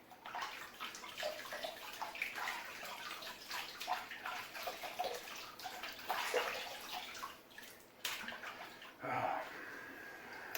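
Water runs and splashes as a shaving brush is rinsed under a tap between lathering passes, a continuous gushing with a few louder surges near the end.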